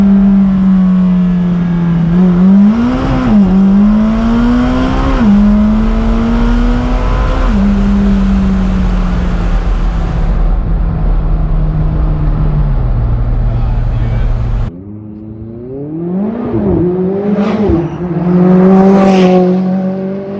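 A McLaren 600LT sports car's short exhaust revs hard and loud up close, rising and falling repeatedly, with a cut and a burst of sharp revving near the end.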